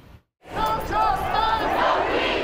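A large, young crowd of protesters in Fort Worth shouts and chants loudly in unison after a short silent gap. The voices rise together and carry on as a dense, sustained roar.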